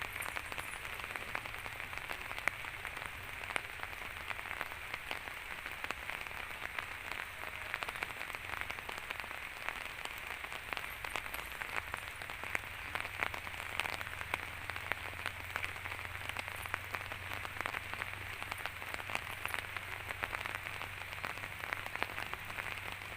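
Steady rain pours down on elephants at an outdoor elephant camp, a continuous dense hiss of drops with scattered sharper patters, moderately loud and without speech.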